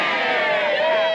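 Crowd of Italians cheering in a dense, sustained roar of many voices, loud and continuous throughout the short stretch.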